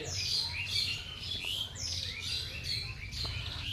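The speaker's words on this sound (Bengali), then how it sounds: "পায়রাগুলো একটু দেখে নিন" Pigeons kept at a home call in a run of repeated short chirping notes, several bursts spaced evenly across the clip, moderately close over a low background hum.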